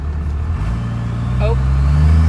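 A 12-volt donor truck's engine idles after finally starting, a low steady rumble with rising harmonic drone, close and loud, partly under talk.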